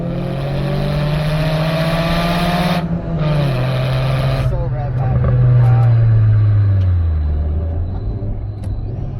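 Supercharged Honda Fit on winter tires being driven through corners on a wet road, its engine droning steadily from inside the cabin with pitch rising and falling as it accelerates and eases off, with wind and road rumble throughout.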